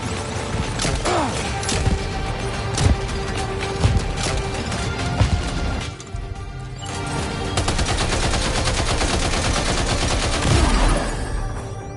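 Gunfire in the Death Stranding 2 video game rattles in dense, continuous bursts with sharp impact cracks, briefly dropping away before the shooting resumes just as loud.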